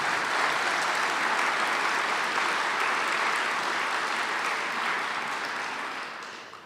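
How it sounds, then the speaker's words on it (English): A large audience at a State of the County 2023 event applauds the school district, dense and steady clapping that fills the room for several seconds before tapering off at the end. "let's give the school district a good round of applause"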